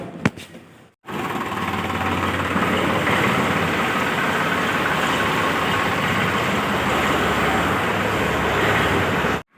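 A tractor engine runs steadily and fairly close by on a farm outing to load fodder, a continuous low rumbling drone that starts after a second of near silence and holds level to the end.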